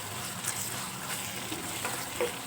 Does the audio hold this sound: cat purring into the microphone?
no